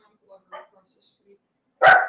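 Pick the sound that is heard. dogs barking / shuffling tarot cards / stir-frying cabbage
dogs barking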